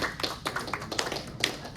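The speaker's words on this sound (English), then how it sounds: "Everybody give a round of applause." A small group claps for a cadet named Reynolds, loose, uneven hand claps in scattered bursts rather than a full ovation, fairly close and moderately loud.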